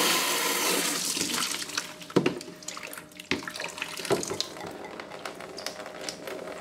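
Water drains from a pressurized HiFlo system through opened valves into a bucket, a close, gushing splash and hiss that tapers and sputters with a few bursts and gurgles, with no talking.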